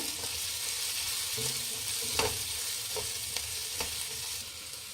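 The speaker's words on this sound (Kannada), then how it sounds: "ಈರುಳ್ಳಿ ಚೆನ್ನಾಗಿ ಫ್ರೈ ಆದರೆ ಟೇಸ್ಟಿಯಾಗಿರುತ್ತೆ" Onions frying in a pan give a steady, soft sizzle with a few sharp stirring clicks and scrapes scattered through, close and moderately quiet with no voices.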